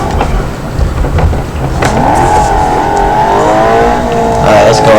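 An old car drifting in BeamNG.drive, loud engine roar with rising, wavering tire squeal that holds for several seconds, close and continuous.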